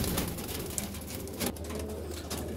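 Madrasi pigeons coo softly in a loft, low repeated throaty calls over a steady background hum, fairly quiet and close, with a faint flutter of movement.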